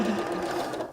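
Sewing machine stitching quilt pieces together, a brief close, steady mechanical whirr of fast needle strokes with no voices.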